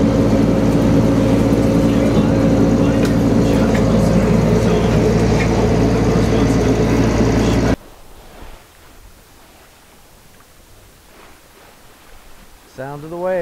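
Loud, steady engine rumble from a sailboat motoring under engine, with wind and water hiss, cutting off abruptly to quiet water sounds and a brief whistle.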